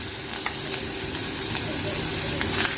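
Garlic fries in a pan over a medium flame with a steady, close sizzle and crackle, while faint stirring scrapes rise briefly near the end.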